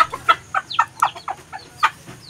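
Small chicks give quick, uneven high peeps and short clucks in close succession, near and fairly clear over a quiet background.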